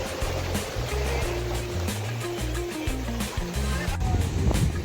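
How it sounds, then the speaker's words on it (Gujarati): Sea waves roll onto Dabhari beach in a steady, close wash of surf, with a low droning hum and faint voices running underneath throughout. "આ દરિયા કિનારો છે, બહુ જોરદાર છે"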